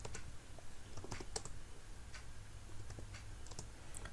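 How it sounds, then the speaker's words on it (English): Keys clacking on a computer keyboard during stenographer skill-test data entry, a steady run of light, irregular taps close by and fairly faint, with no talking. "just example I am typing"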